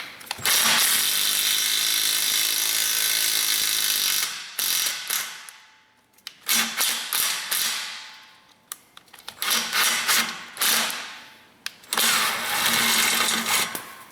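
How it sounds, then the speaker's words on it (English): A ratchet turning a thread chaser on a Toyota Tacoma V6 while the oxygen sensor threads are cleaned, giving loud close rapid clicking in several bursts separated by short pauses. "so we ran our thread chaser on there"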